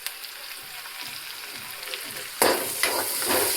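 Chopped onion with a pinch of salt sautéing in a pan: a soft, steady sizzle that swells sharply louder about two-thirds through as it is stirred, with scraping strokes over the hiss.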